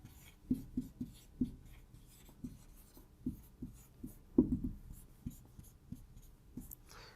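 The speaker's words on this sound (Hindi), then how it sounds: "तो इसकी डेफिनेशन हम ऐसे ही लिखते हैं" Pen or marker writing by hand on a board or paper during a chemistry lesson, a run of scratchy strokes and taps in irregular bursts, fairly close, with no talk.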